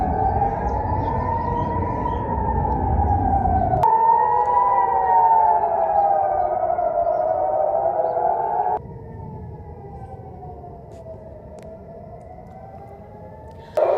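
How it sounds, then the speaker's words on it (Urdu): Air raid warning sirens wail in Israel, several overlapping rising-and-falling tones sounding loud and continuous, then dropping to a quieter, more distant siren near the end. "اسرائیل میں خطرے کے سائرن بج اٹھے ہیں"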